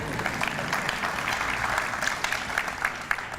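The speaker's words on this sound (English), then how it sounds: "You can applaud." Steady audience applause fills an alumni awards ceremony at East Carolina University, a dense, even wash of many hands clapping with a few sharper claps standing out, with no voices over it.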